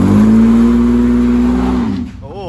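Car engine held at a high, steady rev with the brake pressed for a burnout, loud and sustained for about two seconds before dropping off sharply.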